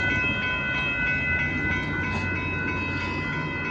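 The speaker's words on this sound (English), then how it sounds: "Amtrak is gonna get ready to pass here. Here it comes." A northbound Amtrak Texas Eagle passenger train passes close by at Dittmar Road in Austin, Texas, producing a loud, steady rumble and roar of wheels and cars with a faint tonal whine, sustained throughout.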